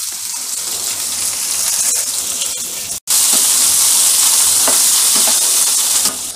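Chopped onion sizzles loudly in hot oil in a home kitchen pan, a dense continuous frying hiss with a brief cut near the middle before the sizzle resumes just as strongly.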